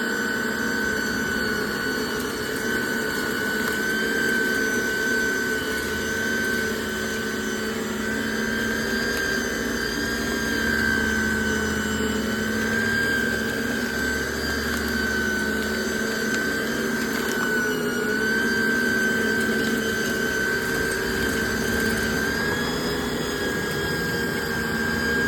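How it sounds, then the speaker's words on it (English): A small push-along turf vacuum sucking leaves off artificial grass outdoors, making a loud, continuous whining roar with a steady high motor tone that holds unbroken close by. "it's quite amazing what this little vacuum contraption will do"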